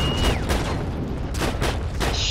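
Gunfire in the video game Heroes & Generals: a dense, loud, booming rumble with repeated sharp bursts of shots over a continuous low roar, with no clear speech.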